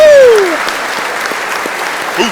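Audience applause at an Oxford Union event, broad clapping from a room full of people with a rising whistle or whoop at the start and a brief voice near the end.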